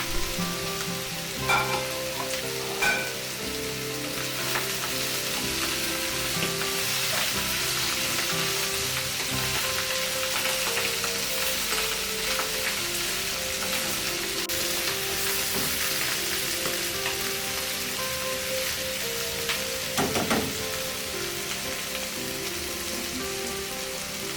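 Chopped chillies and leek leaves fry in a pan for a scrambled egg and mushroom devilled dish, giving a loud, steady sizzle throughout with a few brief scrapes of stirring and no voices.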